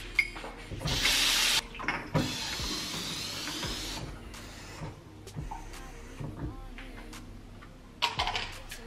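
Tap water runs into a kitchen sink in a home in Madrid, a hissing rush that starts and stops in bursts amid clattering dishes and other household knocks.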